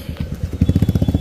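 Motorcycle on a main road in front of a church, its engine putting out a close, steady, pulsing throb that grows louder partway through.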